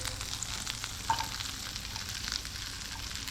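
Chopped ginger and garlic frying in butter in a pan, a steady close sizzle with soft stirring scrapes and a brief clink near the middle; no one talks.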